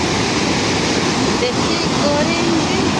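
A roaring waterfall at Keshari Kund in Keonjhar, a dense, constant rush of falling water that fills everything evenly and loudly without a break.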